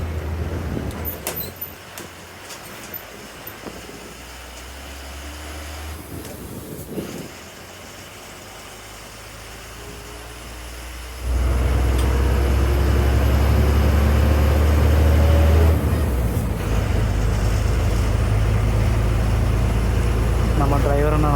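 TNSTC intercity bus on the Cumbum to Tiruchendur route, engine drone heard from inside the cabin, a steady low rumble that swells louder partway through as the bus works harder, with cabin rattles over it.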